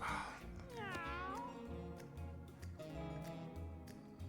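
In the video game Mewgenics, several stylised cat meows and a drawn-out caterwaul ring over looping game music and soft ticking beats, at close, even loudness.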